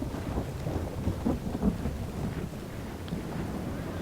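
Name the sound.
rain and thunder in Third Age Total War video game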